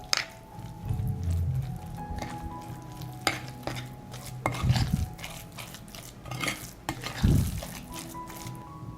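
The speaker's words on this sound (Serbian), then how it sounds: "Sve ću promešati." A sardine patty mixture with almond flour is stirred by hand, giving close, irregular squishing and scraping strokes with brief louder bursts and occasional utensil knocks. No one speaks.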